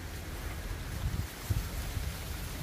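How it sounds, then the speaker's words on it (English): Gusty wind buffets the microphone, a low rumbling roar that swells and drops in uneven bursts, with no voices. "Oh, it's so windy, look how windy."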